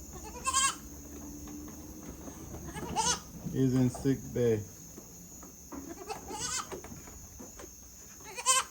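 Goats on a farm in Jamaica bleat in short bursts several times, some near and some farther off, while people talk and steady insect-like hiss runs underneath.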